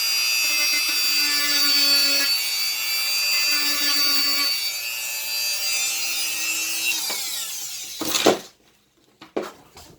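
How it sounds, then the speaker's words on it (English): A metal file rasps steadily across a Glock trigger bar in long, continuous strokes for about eight seconds, fairly loud and close, then stops abruptly and is followed by a couple of brief knocks. "we'll go ahead and file it the remainder of the way"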